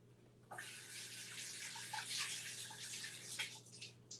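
Celery and carrots rinsed under a running kitchen tap, a steady close hiss of flowing water with small splashy changes as the vegetables move through the stream, no voices.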